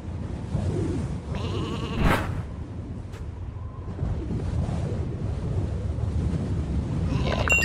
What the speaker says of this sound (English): Not even gonna bother going there with all the sheep on my head.